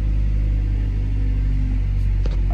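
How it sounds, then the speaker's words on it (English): A 2002 Mazda Miata Special Edition engine idles steadily after a restart with a low, even hum and rumble, close by, with no talking. "So now this fires back up. Runs good."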